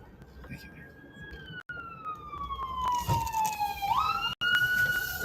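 A fire department siren wails with a clear, sweeping tone that drops and then rises again. It plays continuously over road noise with some background voices, sounding moderately near.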